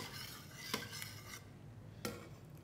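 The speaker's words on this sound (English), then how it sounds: "Just stir your soup around to get a nice sort of gentle whirlpool" Egg drop soup swirled in a pot off the heat, a utensil scraping softly against the metal with a couple of sharper clinks over steady low background noise.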